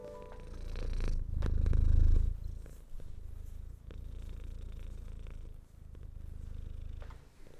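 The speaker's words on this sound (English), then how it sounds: "Can you hear those purrs?" A male cat purrs up close, a deep rumbling, steady vibration that swells loud early on, then continues as a softer, even purr with rhythmic breathing cycles.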